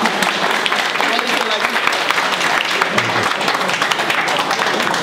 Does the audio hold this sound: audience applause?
yes